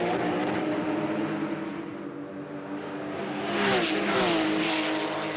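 Race cars with 3.6 litre Boxer six engines producing 400 horsepower roar past on a circuit, a dense continuous engine drone that swells louder as revs climb toward the end, with no talk.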